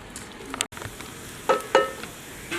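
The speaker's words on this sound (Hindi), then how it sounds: "2 बारीक कटे हुए प्याज है मेरे पास, ये शामिल कर लेंगे और प्याज को सुनहरा होने तक भून लेंगे" Two finely chopped onions frying in hot oil for chicken karahi, a steady sizzle broken by a few clinks and scrapes of stirring, close and without talking.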